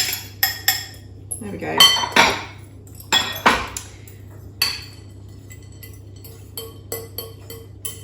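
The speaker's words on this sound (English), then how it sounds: "Just mix it in. Yeah, just give it a really good stir" A spoon clinking and scraping against a bowl while stuffed pepper filling is mixed, a run of irregular sharp clinks close by, with brief talk in between.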